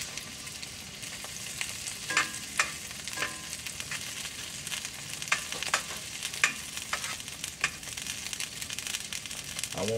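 Fried bologna sizzles in a pan with a steady crackling hiss. Scattered scraping and clattering taps from a utensil break through the frying noise at close range.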